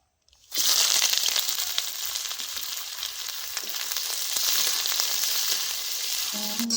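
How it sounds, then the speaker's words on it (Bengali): Raw banana pieces fry in mustard oil for a banana kofta curry. A loud, dense sizzle bursts in after a brief silence and crackles steadily to the end, with no talk. "সর্ষের তেলে আমি এগুলো ভেজে নিব"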